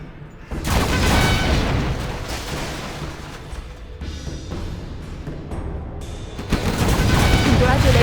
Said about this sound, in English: Our miniguns will destroy the enemy.